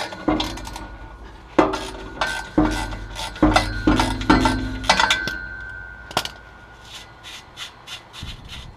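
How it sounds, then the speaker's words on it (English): Wrench work on the rear catalytic converter bolts of a 2001 Honda Accord: a series of metallic clinks and ratchety knocks, close and irregular, tapering into quieter rattles with no talking. "let's loosen up these 3 back end bolts."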